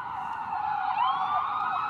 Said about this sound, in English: That's two ambulances now.